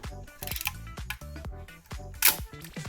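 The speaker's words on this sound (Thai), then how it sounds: "ผมลองเทสชัตเตอร์ดู" A Konica Auto Reflex P film SLR with a jammed gear train has its shutter fired during bench testing, giving a few sharp mechanical clicks and snaps close up with brief rattles between them.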